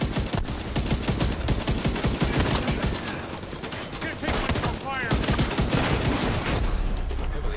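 Rapid bursts of automatic gunfire in The Division 2 fill the clip, dense and loud, with a voice speaking over the shooting.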